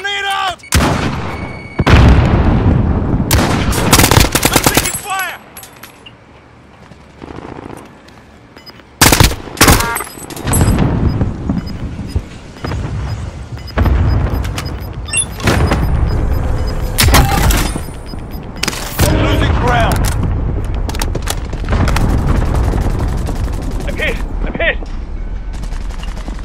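Call of Duty: Warzone combat on Rebirth Island with a heavy grenade blast amid loud bursts of gunfire and booming impacts, shouted callouts from players mixed in over the chaotic battle.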